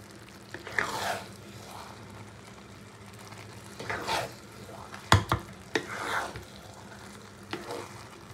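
Pulao in a pot being stirred after saffron milk is added, with soft intermittent scraping and stirring bursts over a quiet background, one sharper clack of the spoon midway.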